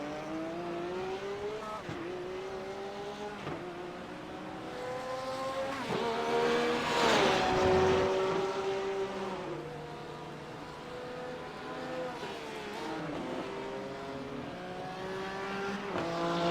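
GT3 race cars brake and accelerate through the Hockenheim horseshoe, engine notes sweeping down and climbing again as one car passes near and loud midway, with other cars audible at a distance before and after.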